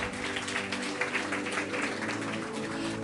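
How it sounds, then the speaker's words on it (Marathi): Church congregation claps loudly together during a sermon, a dense, steady wash of applause filling the space with music faintly underneath. "पुन्हा एकदा जोरदार टाळ्या वाजवूयात प्रभूसाठी"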